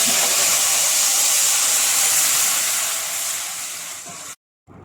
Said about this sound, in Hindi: मैं फ्लेम ऑफ कर दूंगी और इस पानी को सेवइयों में डाल दूंगी